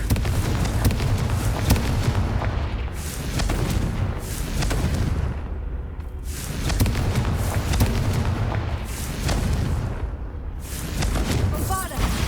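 Confringo fire spell blasts in Hogwarts Legacy, repeated loud booming explosions arriving roughly every two seconds over continuous combat noise, with a player's voice speaking in between.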